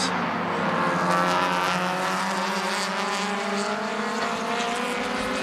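Race cars at a Malaysia Championship Series round roar past in a pack, engines droning loud and steady with rising and falling pitch.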